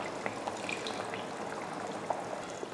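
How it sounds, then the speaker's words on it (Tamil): Water poured into a simmering tomato kulambu, a tamarind-soured South Indian curry, makes a soft, steady splashing hiss that runs throughout, with a sharp clatter right at the end. "இப்போ குழம்புக்கு தேவையான தண்ணி சேர்த்துடலாம்."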